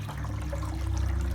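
A Glenville cascading water fountain driven by a water pump gives off a steady, close trickle and splash of falling water with a low hum underneath, constant and unbroken.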